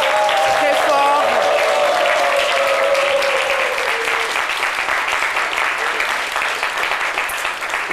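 Loud, sustained applause from a studio audience on a French television show, dense and continuous throughout, with a presenter's voice briefly heard over it near the start.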